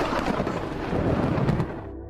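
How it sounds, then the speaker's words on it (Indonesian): Rolling thunder in a film scene, a continuous deep rumble with crackling texture that holds steady and then tapers off toward the end, with no talk over it. "Bahkan saat suara petir terus berlanjut, Deward tetap tidak mendengar apa-apa."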